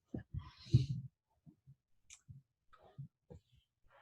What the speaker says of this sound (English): So you're gonna hear clicking.